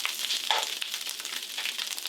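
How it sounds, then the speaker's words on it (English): Ground beef sizzling steadily in a hot pan over fairly high heat while being stir fried for a keto Asian beef bowl, a continuous close crackle with small spatters and no talking. "because we are basically going to be stir frying this as it is an Asian dish"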